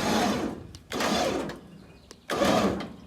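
Electric winch run by wireless remote, drawing its cable snug over a loaded trailer on a farm, whirring in three steady motor bursts separated by short pauses, fairly close and loud.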